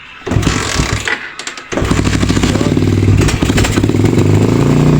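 A Suzuki Raider 150 carbureted motorcycle is kickstarted, a few rough clattering turns before the engine catches and runs with a loud, close, uneven mechanical rattle.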